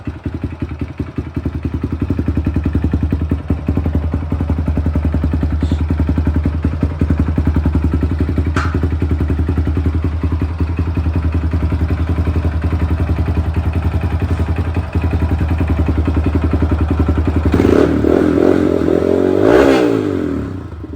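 A small youth ATV engine runs close by at a steady, buzzy idle with mechanical clatter, then revs up sharply near the end before dropping back.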